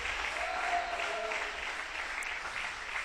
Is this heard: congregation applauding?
yes